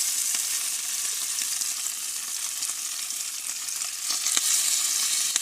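Masala-coated sardines frying in hot oil in a pan, a loud continuous hiss and crackle with scattered pops and spits, close up and steady, no voices.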